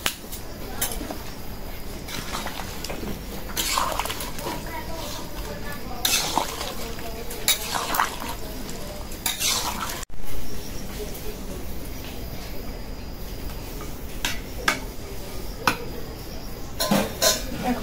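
Pumpkin pieces go into beef cooking in a pot, with clinks and scrapes of a utensil against the metal pot and scattered rattling, close and busy, under faint background voices.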